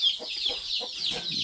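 Hen in a shed housing native country chickens: a few soft, clucking calls close by against a hissy background.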